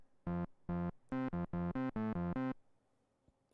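Arturia synth notes set to high sustain with no release and reverb dry: nine short tones in an uneven rhythm, each holding steady then cutting off abruptly to silence, clean and close, with no talking.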